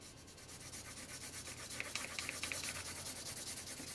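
A pencil held on the side of its lead shades across paper in a steady rapid back-and-forth scratch, a continuous close rubbing texture that stays even throughout with no talk.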